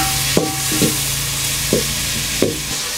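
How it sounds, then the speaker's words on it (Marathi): Tomatoes softening in hot oil in a pan, a steady close sizzle punctuated by four or so scraping strokes of a spoon stirring them. "आधी आपल्याला टोमॅटो छान असं मऊ करून घ्यायचं तेलामध्ये छान असं परतून घेऊया"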